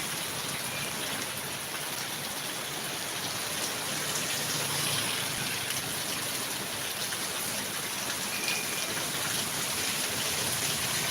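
Steady night rain pours down in a continuous, even hiss of drops on surfaces, fairly loud and close, with no voices.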